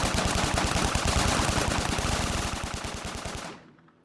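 Sustained automatic gunfire from a Warhammer 40,000 battle scene, a dense, rapid rattle of shots that runs loud and steady for about three and a half seconds before cutting off abruptly, with no voices.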